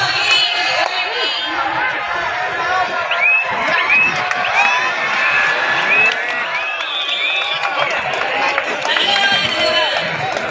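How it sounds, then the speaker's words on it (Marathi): A large crowd packs the grounds of an all-India kabaddi tournament, loud continuous cheering, shouts and whoops close by, with voices talking through it. "गर्दी पाहिजे, जोरदार आहे गर्दी"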